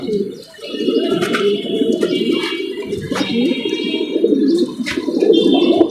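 Pigeons coo steadily and loudly up close, a continuous layered murmur of soft throaty calls with occasional faint chirps over it.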